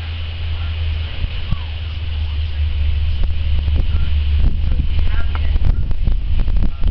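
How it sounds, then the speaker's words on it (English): Strong outdoor wind buffets the microphone in a heavy, continuous low rumble with gusty bursts that build toward the end. "Really windy."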